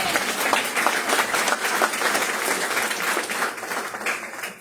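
Congregation clapping steadily at a church service, a dense, continuous patter of many hands filling the room throughout.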